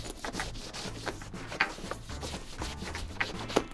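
Felt brush scrubbing dirt and debris out of the fine grooves of a bag's textured surface, a steady close rubbing and scratching with a few sharper scuffs.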